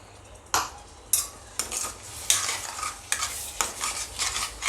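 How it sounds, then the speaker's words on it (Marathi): Masala roasting in a pan on low flame, a soft steady sizzle punctuated by repeated scraping stirs of a utensil against the pan, close and moderately loud. "आता आपल्याला या मसाल्याला चांगलं शिजवायचं आहे अगदी त्याला तेल सुटेपर्यंत दोन ते तीन मिनटं झाली आहेत याला मी स्लो गॅसवर भाजत आहे"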